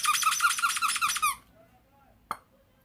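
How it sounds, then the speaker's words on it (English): A Pikachu toy squeaks in a quick, loud burst of rapid squeaks up close, then goes quiet apart from one short click. "This is the Pikachu that squeaks."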